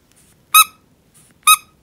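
A small llama squeeze toy gives two sharp, bright squeaks about a second apart, close and loud against near silence, each preceded by a faint airy hiss.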